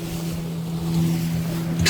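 A motorboat runs at sea with a steady low engine drone, mixed with rushing wind and water noise, loud and continuous throughout.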